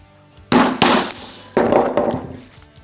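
Sharp hammer blows drive a hollow upholstery punch through a small piece of rubber sheet, five or six close, loud metallic strikes in quick succession.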